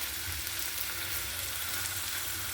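Anchovies fry with onion in a pan in a Thiruvananthapuram kitchen, giving a continuous bright, crackling sizzle that stays steady and close throughout, with no talking.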